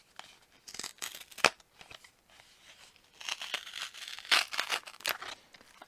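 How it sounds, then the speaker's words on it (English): Paper and plastic packaging of a makeup sample card being torn open, quiet crinkling and ripping in short irregular bursts, close up with no voices. "I just always destroy the packaging on these."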